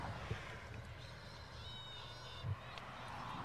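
Birds calling outdoors around a lawn bowls club, a few faint caws and chirps over a low hum of distant traffic, quiet with no voices.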